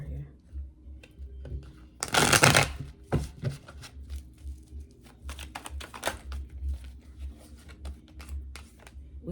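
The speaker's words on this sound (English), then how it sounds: "Let me shuffle." Tarot cards are shuffled in quick riffles and slides, with a louder burst of card flutter partway through. A soft voice talks quietly over the close, fairly faint card noise.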